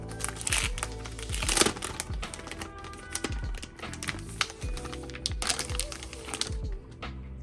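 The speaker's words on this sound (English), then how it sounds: "we take it out of the packaging" A Timovo trifold smart folio case for a 12.9-inch iPad Pro being unpacked, with close crinkling plastic and paper, soft thumps and short scraping rustles in uneven bursts, and no talking.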